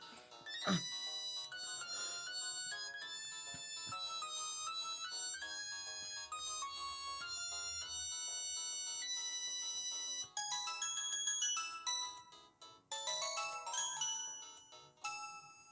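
The Samsung SGH-T105G TracFone phone plays a ringtone, a bright, bouncy electronic melody of steady tones that runs continuously and loudly, with no talking.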